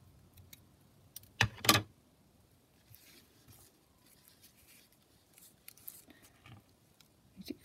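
Close, quiet scissors snip through paper from a craft kit in one brief cluster of crisp cuts, then soft rustles and small ticks of handling follow in an otherwise hushed room.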